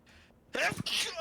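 One sharp, close sneeze bursts out after a faint breathy lead-in, followed by a brief voiced exclamation.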